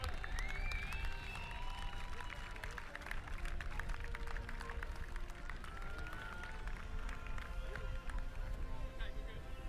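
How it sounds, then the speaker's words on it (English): Crowd applauding after an American football final in Ireland, dense clapping and scattered cheers sustained throughout, with a voice talking over the noise. "Give them all a big, massive round of applause."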